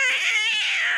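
A single drawn-out, wailing meow from a heavily pregnant street cat in an animated comedy scene, loud and close, heard alone.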